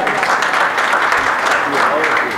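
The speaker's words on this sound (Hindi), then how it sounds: "एक मरतबा सदर साहब के लिए तालियां बजा दें" Audience at a mushaira poetry gathering claps for the presiding guest, a loud, continuous burst of many hands with voices faintly mixed in.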